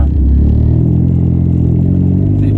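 A big-turbo Dodge SRT4 engine revving hard inside the car, a loud, steady low drone rising through a gear with mechanical clatter, close and dominant with no voices over it.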